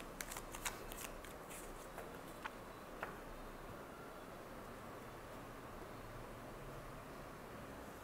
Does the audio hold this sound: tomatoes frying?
no